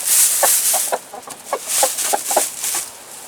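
Chickens cluck repeatedly near cleaned-out coops with fresh straw, a close flock giving short clucks over a steady hiss of background noise.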